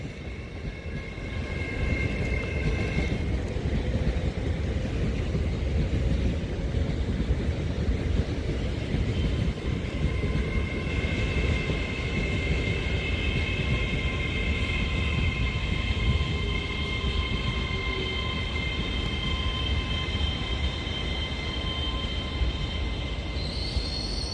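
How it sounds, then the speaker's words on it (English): An Avanti West Coast Class 807 train pulls into Birmingham International station with a loud, sustained rumble of wheels on rail and faint squealing tones above it, continuing for over twenty seconds. "Avanti West Coast 807004 arrives into Birmingham International."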